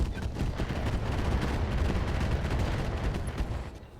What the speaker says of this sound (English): We're still firing improved MRMs, and this Flashman is going to take a lot of damage from this